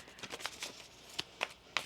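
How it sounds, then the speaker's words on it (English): Tarot cards being shuffled at a table, a quick run of soft papery riffles followed by a few sharper separate snaps, close and fairly quiet with no talking. "One more shuffle here"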